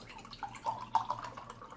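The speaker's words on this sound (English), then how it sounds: "I'm going to dump this particular water here." Water tipped out of a cup, heard as a brief run of quiet splashes and drips close by, with no talking.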